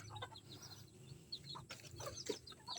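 Brazilian bantam chickens cluck in short, scattered bursts over a low steady hum, with a few sharper calls standing out.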